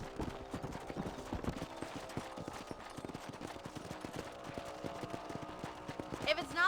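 Hooves pound in a quick steady gallop from a horse in the video game Red Dead Redemption, rhythmic clip-clop beats close by and fairly quiet, with a short rising whinny-like sound near the end.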